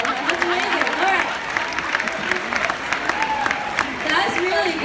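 Students at a senior meditation session clap for themselves, a lively round of applause mixed with cheering and chatter, voices audible over the clapping.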